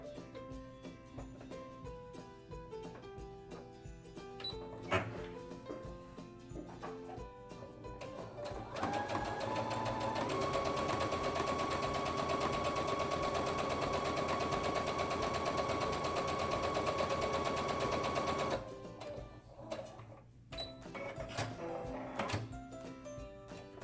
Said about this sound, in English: So we're just going to sew along just the curved edge first.